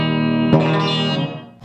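Gretsch G5135PS electric guitar on its bridge pickup, one bright chord struck and left to ring with reverb, then a second pick attack at the very end, loud and close with no talking.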